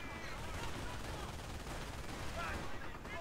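Sustained machine-gun fire from a half-track's top gunner in a World War II strategy game, rapid bursts that rattle on steadily throughout, with commentators talking over it.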